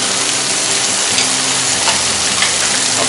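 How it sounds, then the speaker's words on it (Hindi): Yogurt being stirred into a Hyderabadi dum biryani marinade, heard as a steady wet hiss and sizzle-like churning texture, constant and close, with no talking. "अब दही को मिक्स कर लेंगे"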